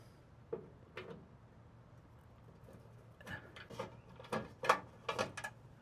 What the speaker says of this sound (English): So we're unscrewing this so that we can access the gas line.